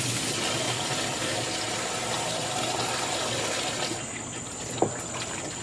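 CrestWave 1/3 HP submersible pool cover pump running and moving water, a continuous gushing, trickling wash with a steady pump hum and one brief knock near the end.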